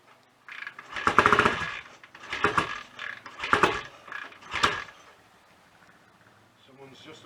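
A BSA A65 motorcycle engine, freshly rebuilt with the cylinder head back on, is kicked over on a warm day in four rough mechanical bursts of clatter, each about a second long, then falls quiet.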